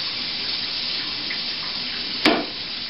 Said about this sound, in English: Need the hot water on to drain the grease.